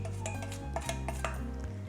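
Sugar and spices mixed for chai masala, quick ticking clinks of a spoon against a dish over a steady low hum, close and fairly quiet, without pause.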